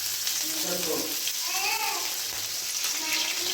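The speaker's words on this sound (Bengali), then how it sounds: "এই তেলের মধ্যে এবার আমি দিয়ে দেব হচ্ছে গোটা জিরে, একটু গ্রেট করে রাখা আদা" Whole cumin and grated ginger sizzling in hot oil for a vegetarian paneer dish, a steady close crackling fry under someone talking.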